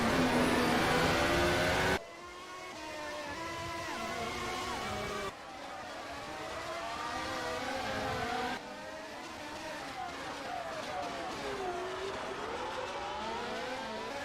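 A race car in a sim racing game at the Azure circuit, its high engine whine climbing repeatedly through gear changes, each shift marked by an abrupt drop, steady and moderately loud, with commentary over it.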